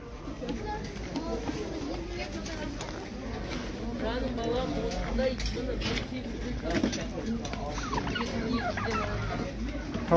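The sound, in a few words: chickens and roosters clucking at a poultry market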